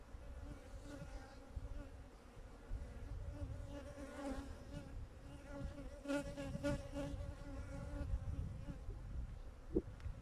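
Honey bees hum steadily around an open hive, a dense layered buzz with individual insects droning past close by, quiet and constant throughout with no talk.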